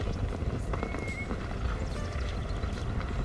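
Mustang horses move about outdoors at a wild horse rescue ranch, giving off steady hoof clip-clop and occasional whinnies over constant outdoor noise, with no talking.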